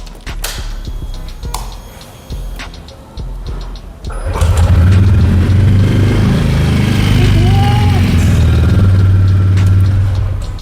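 A TVS Ronin motorcycle is kicked into life after a few seconds of clinking and handling noise, then idles loudly close by with a steady low rumble and a brief rev.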